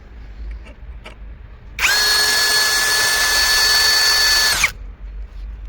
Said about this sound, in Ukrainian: Спробуємо просверлити профільну трубу за допомогою комплектного сверла і шуруповерта.